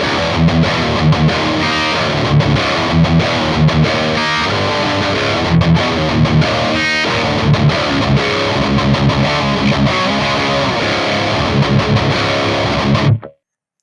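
Heavy distorted electric guitar through a Helix Stadium amp modeler plays loud chugging riffs with palm-muted rhythms and ringing chords, then cuts off abruptly at the end.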